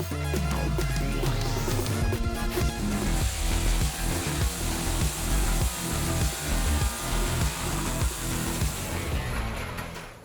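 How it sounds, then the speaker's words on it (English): Bandit 12X wood chipper running loud and steady at an outdoor yard job, a dense mechanical roar with repeated grinding surges as material feeds through, sustained from start to finish with no talk. "I think you are no longer unfamiliar with this Bandit 12X wood chipper."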